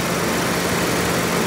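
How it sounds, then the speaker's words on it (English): A 1995 Toyota 4Runner engine idles with a steady, even low rumble, close and loud, running smoothly without breaks for its short length. "clean engine all fired up"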